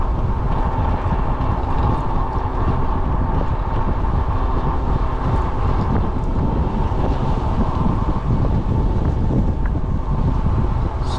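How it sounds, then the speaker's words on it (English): Strong wind roars into the microphone during a bicycle ride on a trail, a constant loud low rumble and buffeting that never lets up, with no voices. "Boy, that wind is strong."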